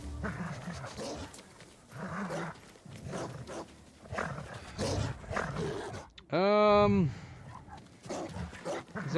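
Dogs in the video game Ghost of Tsushima, one short whining, rising-and-falling yelp or howl standing out near the end, with someone talking over game sounds before it.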